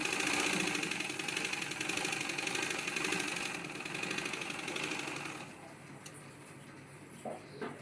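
Sewing machine running steadily as cloth is fed through for a neat seam, a loud continuous mechanical whir that drops quieter partway through and continues at low level with small clicks.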